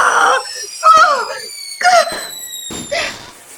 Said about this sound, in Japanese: 雑草の口から大量の花火が吹き出し、あっちこちに火花が撒き散らされる